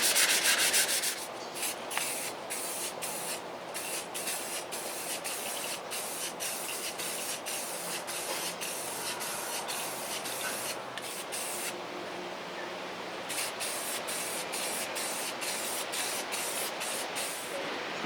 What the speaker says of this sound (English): All you're trying to do at this point is sand out the sanding scratches from the 80.